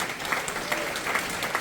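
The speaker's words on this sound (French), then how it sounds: "Bah, Jésus, un bel applaudissement." A congregation at an evangelistic church service breaks into applause, a steady, fairly soft patter of many hands lasting under two seconds, with a few sharper claps standing out.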